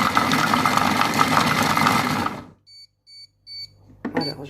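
A Compact Cook Pro food processor runs at speed 5 with a loud, steady motor whir for about two seconds, then stops abruptly, followed by a few short electronic beeps and a brief clatter.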